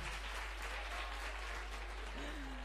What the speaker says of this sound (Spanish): Y así te sigues ganando el aplauso del público de Murcia, Cepeda